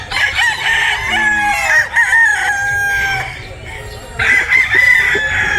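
Sweater Gilmore breeder rooster crowing at a chicken farm, several loud drawn-out crows close by, with softer clucking and other fowl in the background.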